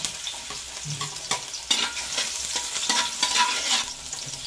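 Garlic sautéing in hot oil, a continuous crackling sizzle with frequent scraping and stirring strokes against the pan, close up and without talk.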